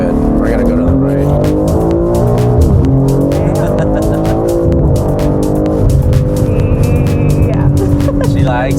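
A tuned sports car driving laps around a shop lot, engine revving loud and close with shifting pitch, tires squealing in long skids, and people talking beneath the engine noise.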